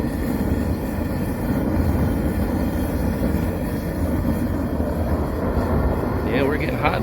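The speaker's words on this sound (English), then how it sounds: "You get more of a jet roar the higher it is," A gas forge burner roars steadily like a jet engine, a loud continuous broadband rush that holds for several seconds, with a brief faint higher whine near the end.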